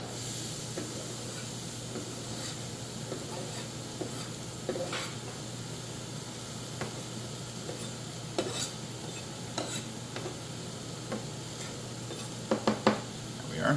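Vegetables including onion sizzle in a pan with four or five tablespoons of olive oil, a steady frying hiss with occasional stirring scrapes and clinks; a voice speaks briefly.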